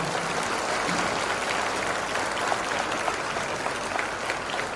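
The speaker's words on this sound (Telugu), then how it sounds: "గురువు గారికి కూడా మనం చప్పట్లు కొట్టాలా వద్దాం కమాన్" A large audience claps steadily for a teacher at a public gathering, a dense, even wash of applause held at a constant level for several seconds with no voices on top.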